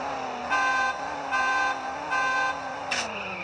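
A McLaren F1 GTR in the CSR Racing mobile game: a steady, droning engine tone with three evenly spaced brighter pulses laid over it and a short final blip, loud and close, with no speech.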